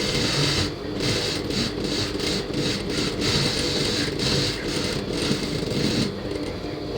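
Sewing machine running a seam on a blouse during cross-cut blouse stitching, a busy mechanical whirr in short bursts with brief pauses, moderately loud and close.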